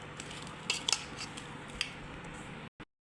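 Mango pickle being mixed with a utensil in a dish, giving soft scraping and a few sharp clinks of metal, fairly faint, ending in an abrupt cut with one brief knock.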